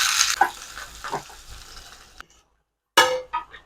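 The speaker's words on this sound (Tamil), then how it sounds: "சின்ன வெங்காயம் போட்டு தாளிங்க, குழம்பு வந்து ரொம்ப வாசனையாக இருக்கும்." Small shallots frying in hot oil for a fish curry tempering: bursts of loud sizzling with clinks of a spoon against the pan, then a brief silent gap before another sharp sizzle flares up.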